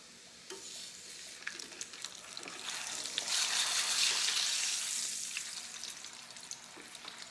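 Tortillas for enchiladas toasting in a pan, a soft sizzle that swells to a broad hiss in the middle and fades, with light scraping and tapping sounds, no voices.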